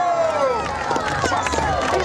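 An audience at a live BMX stunt show cheers and claps in a lively crowd roar, with a voice talking over the noise.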